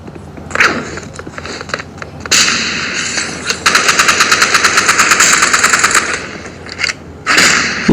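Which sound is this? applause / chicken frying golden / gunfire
gunfire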